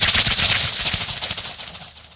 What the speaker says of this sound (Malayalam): അപ്പൊ പിന്നെ വെടിക്കെട്ടും ആയിക്കോട്ടെ.